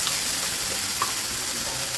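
Crushed garlic and ginger fry with softened onions in a hot pan, giving a close, steady sizzle that runs unbroken throughout with no talking.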